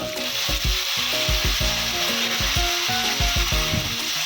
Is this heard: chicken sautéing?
yes